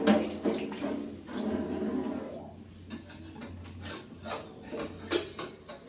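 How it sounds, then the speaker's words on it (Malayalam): Chicken curry boils in a pot, giving a steady close bubbling and simmering hiss with soft irregular pops and no talk. "നല്ല രീതിയിൽ തിള വരുന്നുണ്ടേ."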